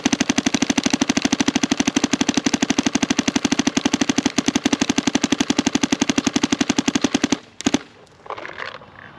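A DSR+ paintball marker fires full auto at its maximum rate, a rapid, steady stream of loud, close shots lasting about seven seconds before stopping abruptly, followed by faint handling noise.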